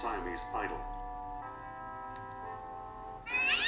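A cat meows in the LucasArts adventure game Indiana Jones and the Fate of Atlantis, giving drawn-out harmonic meows against faint ticking, with a brighter burst of sound at the end.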